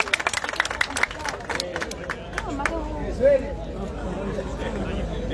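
Crowd at the Stage 4 Vergara–Melo awards ceremony of the 2024 Vuelta Ciclista del Uruguay claps in a burst of sharp applause that fades into chatter and cheering voices, with people talking near and far.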